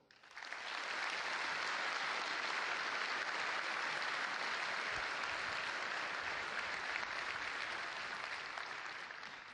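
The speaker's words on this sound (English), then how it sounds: "Let's all applaud them." A large audience bursts into sustained applause at the EVE Fanfest 2012 keynote, building quickly to a loud, steady wash of clapping that holds evenly throughout before easing slightly at the end.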